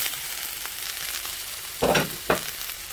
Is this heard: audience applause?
no